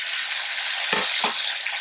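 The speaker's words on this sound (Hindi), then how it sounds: "इसको यहाँ पे आपने इतना फ्राई करना है कि चिकन का कलर जो है पिंक से वाइट की तरफ आ" Boneless chicken pieces sizzle loudly in hot oil in a frying pan, a dense continuous close fry with two brief clatters of the pieces being moved.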